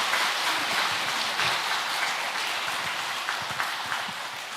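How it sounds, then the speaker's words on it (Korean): Sustained applause from a church congregation during a pastor's installation thanksgiving service at a Korean church in Ulsan, steady dense clapping filling the room for several seconds with no talk. "우리 다 같이 하나님께 감사와 영광의 큰 박수 보내주십시다"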